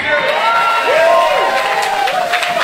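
A church congregation cheers and acclaims loudly, with sustained crowd noise and rising, wavering shouted voices filling the space.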